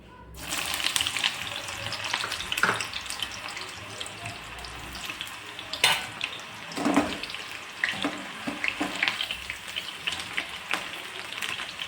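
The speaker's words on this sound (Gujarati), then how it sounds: "તેલ ગરમ થઈ ગયું છે તો આપણે હવે રીંગણ તળી લઈશું." Brinjal (eggplant) pieces fry in hot oil with a lively, close sizzle, broken by irregular bursts of crackling and spitting throughout.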